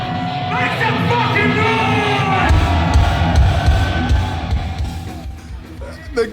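A loud festival crowd at Copenhell yells, whoops and cheers together in a dense, sustained roar that swells midway and stays close and overwhelming throughout.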